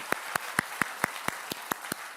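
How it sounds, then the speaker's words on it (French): A single person clapping slowly and evenly at a church service, about nine crisp, separate claps in steady rhythm, close and distinct against a quiet room. "Ah, nós podemos aplaudir."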